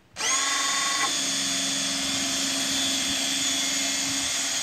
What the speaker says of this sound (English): So you're going to start your drill up. Obviously it's going to be noisy